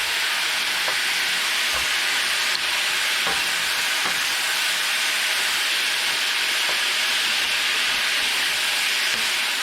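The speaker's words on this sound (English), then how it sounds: "just toss the beef back in" Beef sizzling in a hot pan with romanesco broccoli and ground pepper, a steady bright frying hiss throughout with a few soft stirring knocks, fairly close and without talk.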